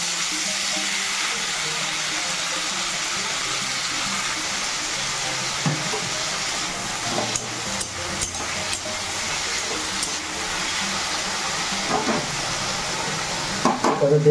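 Pumpkin stems frying in hot oil make a steady, close sizzle with occasional stirring and scraping; no one speaks.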